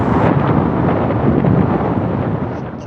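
Strong wind before a rainstorm buffets the microphone outdoors as a loud, continuous low rumble that roars steadily for three seconds, then eases slightly at the end.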